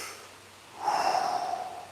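A quick, sharp inhale of a breath fitness exercise drawn in through the nose, one close breathy rush lasting about a second, with no talking.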